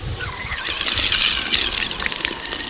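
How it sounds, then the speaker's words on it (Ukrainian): Water gushes and splashes loudly as it fills the pump of an Oleo-Mac PW 110 C pressure washer after a repair kit replacement, a steady rushing flow with no talking. "прокачаємо тут воду, заповнимо помпу водою"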